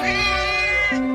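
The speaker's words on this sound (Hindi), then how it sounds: "अरे देखो, ये बिल्ली रो भी रही है।" A single drawn-out cat meow, high and wavering, heard up close and alone for about a second.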